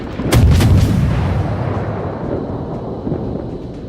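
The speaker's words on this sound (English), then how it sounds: "Oh, we missed again. See, those shells went over." Naval shells fire from a warship's guns in World of Warships: a heavy booming salvo near the start with a rumbling tail that rolls on under steady low background noise, with no voices.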